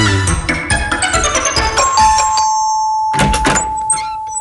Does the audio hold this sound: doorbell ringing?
yes